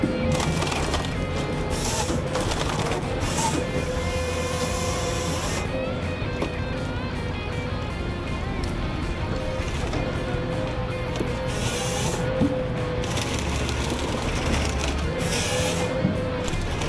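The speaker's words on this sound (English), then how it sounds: "John Deere cutting and logging machine with an impressive cutting capacity of around 30 cubic meters per hour easily processes many different types of wood" A John Deere logging machine cuts and processes timber with a dense, continuous mechanical roar and grinding. Woody crackles and rhythmic surges run through a steady, loud drone for the whole stretch.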